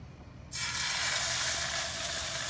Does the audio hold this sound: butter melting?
yes